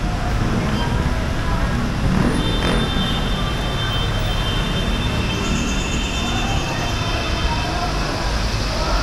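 An MRT train rolls past at street level amid city traffic, a steady broadband rumble of wheels and cars with a brief high squeal, heard from nearby throughout.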